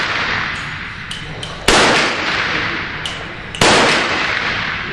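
Five sharp gunshots crack out one after another at uneven intervals in a timed ten-second string on a shooting range, two of them much louder, each followed by a brief echoing decay.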